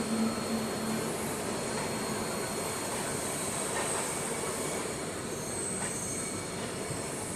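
The Pune Duronto AC Express pulls out of Vadodara Junction, and a dense, continuous roar of wheels and rails fills the whole stretch at close range, with a high squeal running through it.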